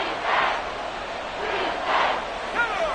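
Football stadium crowd at a Ravens game roars and cheers in swelling waves, a distant, diffuse wash of voices rising and falling over a few seconds.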